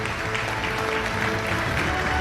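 An audience at a documentary film festival award ceremony applauds as a guest is called to the stage, giving a continuous, dense roar of clapping throughout.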